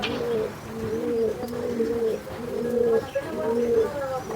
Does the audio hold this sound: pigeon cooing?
yes